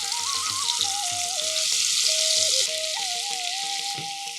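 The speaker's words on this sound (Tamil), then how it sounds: "மசால் வந்து நல்ல இந்த ஆயிலே வேகும்." Masala fries in oil in a kadai with a dense, continuous sizzle under a wavering musical tone and rhythmic low thuds.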